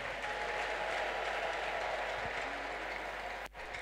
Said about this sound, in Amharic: እስቲ ለእግዚአብሔር ክብር፣ ጭብጨባ፣ እልልታ።